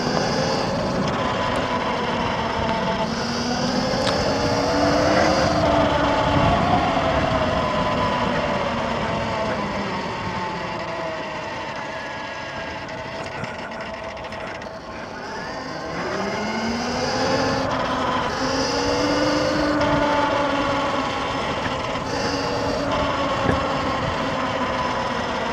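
An X Pro dirt bike engine runs steadily while riding on trails, droning loud and close with rising and falling pitch as the throttle changes over a long stretch.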